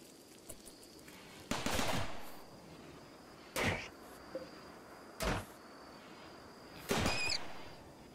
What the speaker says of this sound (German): Die sollen von den Geschützen zerstört werden.